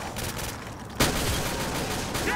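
A single loud shotgun blast in Call of Duty Black Ops 3 custom zombies cracks out sharply after a second of low background noise, leaving a sustained dense rumble of game sound behind it.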